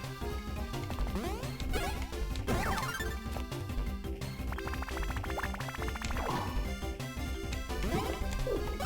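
Repeated smashing and whacking hits in the Mario & Luigi: Bowser's Inside Story video game, loud crashes scattered over busy, dense game music and effects, with no talking.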